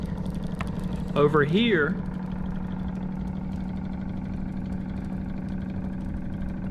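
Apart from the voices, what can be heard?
small class-built electric motor running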